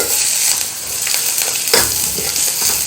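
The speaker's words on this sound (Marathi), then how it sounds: "मस्त अशी इथे आपली फोडणी तयार झालेली आहे" Hot oil sizzles steadily as a tempering of asafoetida and fresh coriander fries in a pan for sprouted moong soup, with a few soft stirring clicks and no talking.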